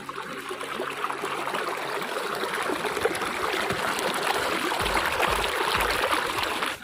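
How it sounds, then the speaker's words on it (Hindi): Mountain spring water runs in a steady, continuous rush, close and fairly loud throughout, with bubbling trickles and no voices. "चश्मे चेक करो कितना खूबसूरत पानी आ रहा है"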